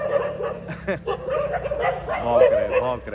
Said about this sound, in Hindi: भौंक रहे, रात का टाइम है ना इसलिए भौंक रहे।